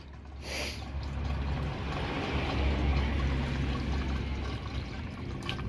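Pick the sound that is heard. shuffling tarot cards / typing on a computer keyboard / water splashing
water splashing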